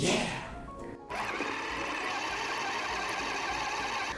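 Crepe batter with a pinch of salt and sugar is mixed in a bowl, producing a continuous close whirring and swishing churn after a brief pause near the start.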